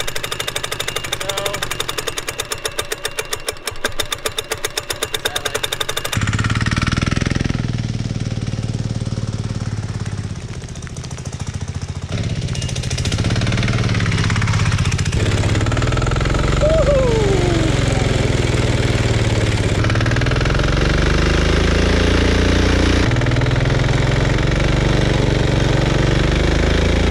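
A homemade diesel mini bike engine runs loud and close, clattering rapidly at first, then chugging at shifting speeds with rough knocking throughout.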